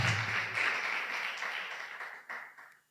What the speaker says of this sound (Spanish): Dale un aplauso más fuerte al Señor